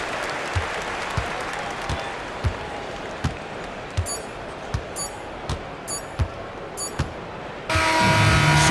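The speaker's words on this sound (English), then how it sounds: "So the home crowd happy here as they get the victory." In the NBA 2K26 basketball video game, a home crowd applauds and roars steadily, with basketball bounces thumping through the crowd noise before a louder burst near the end.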